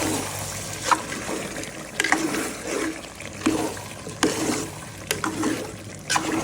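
Water poured into a pot of beef and potato curry, splashing and gurgling in uneven bursts with sharp clatters of the vessel, close and fairly loud, no voices.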